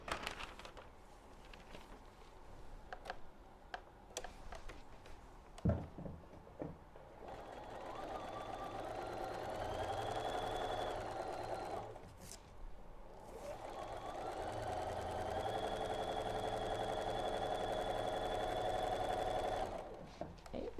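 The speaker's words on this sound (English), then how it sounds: "now we're going to take it to our machine and we're going to sew" A sewing machine stitches quilt pieces for a border, running in long steady whirring stretches with a short pause between them, fairly quiet and mostly without talk.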